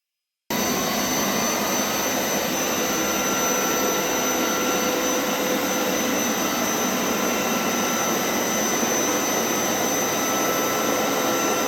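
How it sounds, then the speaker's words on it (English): Hoover Power Scrub carpet cleaner vacuum starts abruptly and then runs as a loud, steady, high-pitched whine with a broad airy roar, close up and continuous, with no speech. "you just use the vacuum to then clean up all the solution"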